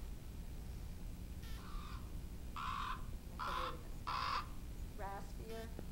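A raven's raspy, deep croaks play from a recording, several harsh calls in an irregular series that ends with a couple of quicker rattling notes. They sound fairly close over a steady low room hum.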